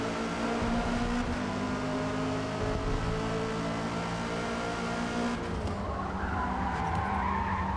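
Race cars corner at Hakone in the Forza Motorsport video game, tires skidding and squealing over loud, sustained engine roar as several cars brake hard into the first corner together.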